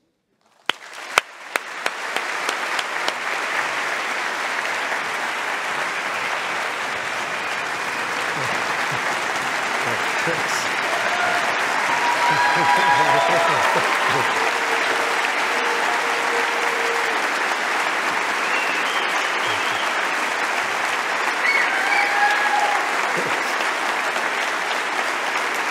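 Sustained audience applause at a Cleveland Foundation annual meeting as a speaker is welcomed to the stage, opening with a few scattered claps that quickly swell into a loud, steady ovation that continues throughout.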